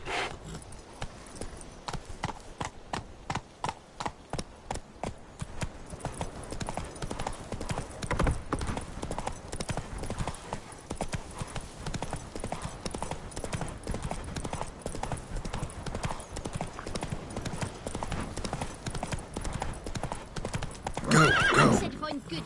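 Roach, a horse in the video game The Witcher 3, trots with steady clip-clopping hooves throughout, and a loud neigh breaks out near the end; a voice speaks over the hoofbeats at times.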